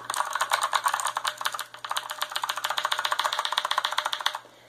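Rapid clicking of a dusty mechanical computer keyboard being typed on up close, a fast continuous patter with a brief pause near the middle.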